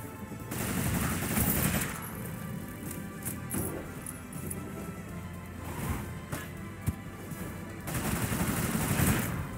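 Rapid gunfire from a magic gun spell in Rogue Legacy 2, dense bursts of shots with busy game effects, loudest at the start and end with a sharp crack near the middle.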